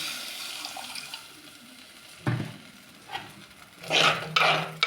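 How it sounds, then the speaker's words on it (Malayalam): Water is poured into a pan of sardine curry with chilli and turmeric powder, giving short splashing gushes near the end over a faint background hiss. "കുറച്ച് വെള്ളം ഒഴിക്കുക."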